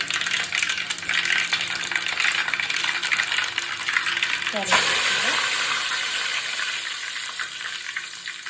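Mustard seeds fry in hot coconut oil in a heated uruli, a continuous crackling sizzle that surges and brightens about halfway through, then settles into a steady hiss.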